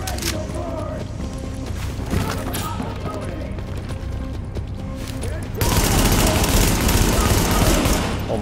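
Gunfire in The Division in a contaminated subway area, a mix of scattered shots and mechanical clatter over game ambience, then a sudden louder, dense barrage of fire for the last few seconds.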